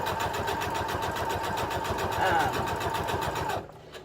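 A home sewing machine runs steadily, stitching and backstitching in a fast, even mechanical whir that stops abruptly near the end, with a voice talking over it.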